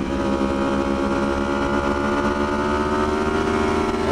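Yamaha R1 superbike engine on throttle at a race track, a loud continuous high-revving whine with rising harmonics and wind roar throughout, no talking.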